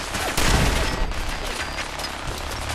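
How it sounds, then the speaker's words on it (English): Bursts of machine gun fire in the video game Fallout 4, a loud volley of rapid shots with a heavy blast near the start, then continuing clattering fire and booms. "Machine guns behind that."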